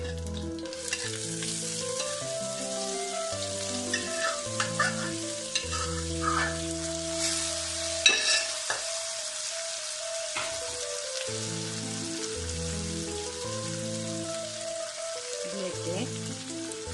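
Cooked chickpeas for kadala sundal fry in a pan, a continuous close sizzle broken by scraping stirs and light clatters, with soft music underneath.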